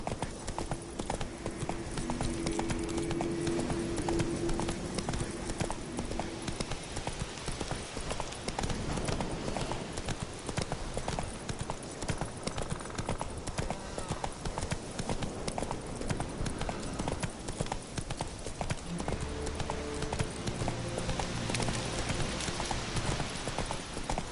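Roach, Geralt's horse, runs at a steady gallop, hooves pounding in a continuous rhythm under dense, loud ambient noise, with no talking.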